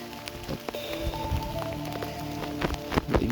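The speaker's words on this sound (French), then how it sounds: "Je vais mettre ma capuche parce qu'il pleut un peu." Light rain falling outdoors near an abandoned train station, a steady soft patter with scattered drop ticks and some footstep-like thuds, no talking.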